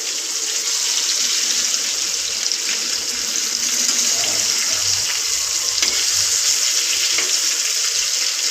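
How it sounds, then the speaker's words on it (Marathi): Bangda mackerel fish fries in a pan, giving a loud, steady, close sizzle and crackle that holds constant throughout, with no talking. "इकडे आपली बांगडा फ्राय होते."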